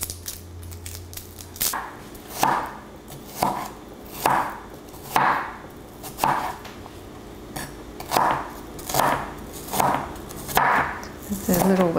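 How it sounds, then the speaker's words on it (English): A knife chops peeled shallots into quarter wedges on a cutting board in a kitchen, about ten sharp, evenly spaced knocks at a steady rhythm, close and clear. "you want to cut them into little quarter sections"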